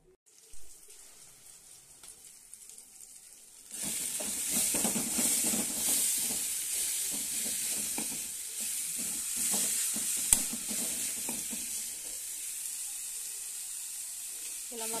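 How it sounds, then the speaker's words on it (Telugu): Fenugreek leaves frying in a kadai after tomatoes and green chillies, a near, steady sizzle with repeated stirring scrapes that starts abruptly after a quiet opening and carries on throughout without talk. "ఇలా మొత్తం దగ్గరకు వేయించుకోవాలి"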